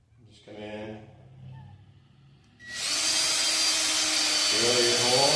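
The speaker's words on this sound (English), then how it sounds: "I'm drilling pilot holes with an 8-inch bit." A drill cuts pilot holes in the rusty A pillar of a 1959 Ford F100. Someone talks briefly first, then a loud, steady motor whine starts and runs close by to the end.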